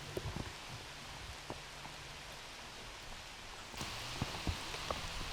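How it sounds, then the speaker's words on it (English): Rain falls steadily on a wooded disc golf course during a pro world championship round, a soft, quiet patter with scattered drops and rustling, swelling slightly louder toward the end. "The rain is still coming down."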